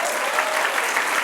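A church congregation during a sermon breaks into loud, dense applause, a brief, steady burst of many hands clapping together.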